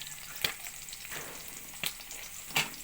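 Tinapa (smoked fish) frying over low heat in a pan, a soft continuous sizzle punctuated by a few sharp pops and crackles, heard close and alone.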